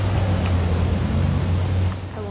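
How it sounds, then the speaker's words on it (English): Steady rain falls in the video game What Remains of Edith Finch, a dense even hiss with a low constant rumble underneath, continuous throughout and easing slightly near the end. "It's gonna rain the whole weekend, isn't it?"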